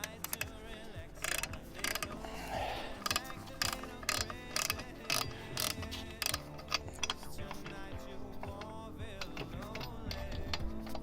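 Ratchet tightening a front wheel bolt on a 2012–2017 Ford B-Max during a brake job, heard as rapid clicking bursts and mechanical clatter, close and moderately loud, with no speech.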